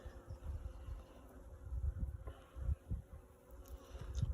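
Honeybees buzz steadily and quietly around an opened beehive, with a low, continuous hum and occasional closer drones and soft handling knocks.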